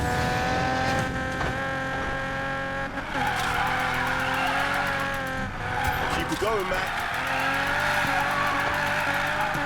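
A car drifts in the Need For Speed Payback video game, its engine droning steadily while the tires squeal through the slide. A voice talks over the loud, continuous game sound.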